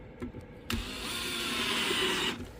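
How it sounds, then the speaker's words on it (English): A power drill pre-drills screw holes into a wooden board, starting with a couple of short taps before a steady, loud whine that runs for about a second and a half, then cuts off. "We pre-drill a couple screws."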